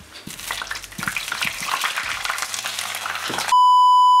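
Tomatoes hit hot olive oil with a steady, close sizzle and crackle that runs for several seconds, then cuts to a sustained electronic beep.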